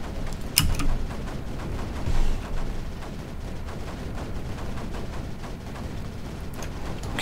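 Mortars fire in the strategy game Creeper World 4 as muffled, low thumps and crackles over a dense rumbling background, with a sharper shot near the start and no voices.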